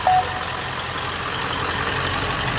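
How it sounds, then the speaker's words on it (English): A truck engine idles steadily with a broad low rumble and constant hum, plus a brief high beep right at the start. "Listen to that engine."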